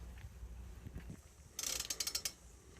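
Ratchet wrench tightening bolts on an OMC/Volvo Penta boat exhaust pipe, heard close up as a quick run of crisp metallic clicks after a few soft knocks and handling sounds.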